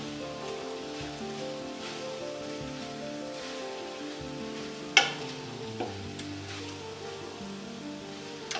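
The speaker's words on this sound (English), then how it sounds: "so just want to keep stirring this around" A spoon stirs chili with beans in a pot, giving a continuous soft bubbling and scraping, with a couple of sharper clinks against the pot partway through.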